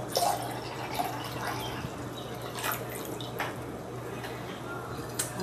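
Water is poured into a pot for Buddha's Belly konnyaku jelly, making a soft, steady splashing trickle with a few drips. The sound is fairly quiet and sits under a faint kitchen background.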